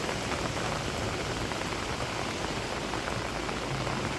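Rain falls steadily on a village in South Korea, a dense, even hiss of drops on surfaces that continues unbroken and close, with no voices.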